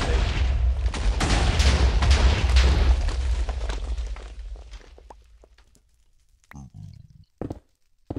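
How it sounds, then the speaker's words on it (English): Two stacks of TNT blow up in a Minecraft-style video game as a long, loud rumbling roar of overlapping blasts that fades over several seconds, followed by a few scattered pops in near silence. "That was a nice explosion for 2 stacks of TNT."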